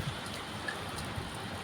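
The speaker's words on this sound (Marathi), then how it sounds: "तर बघा किती छान पाऊस पडतोय." Steady rain falls on a rooftop terrace during a monsoon downpour, a dense even hiss of drops with no pauses and no voices.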